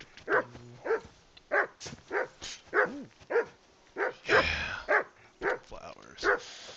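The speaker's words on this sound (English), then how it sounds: "I assume you can hear that damn dog of yours barking" A dog in the video game Kingdom Come 2 barks repeatedly in a steady rhythm of sharp, fairly close yaps, with a brief burst of other noise partway through.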